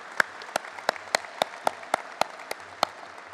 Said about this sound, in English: Let's have a round of applause for Hop Along